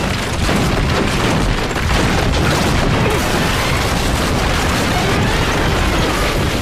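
A solid granite column toppling and setting off a domino collapse of a temple in a cartoon, a dense, loud, continuous rumbling crash of crumbling stone that fills the whole stretch without letup.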